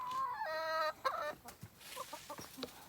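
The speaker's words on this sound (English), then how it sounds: "we've got to get these chickens out of this coop." Chickens in a backyard coop cluck and squawk in short, clustered bursts, close and fairly loud, with brief pauses between calls and no one speaking.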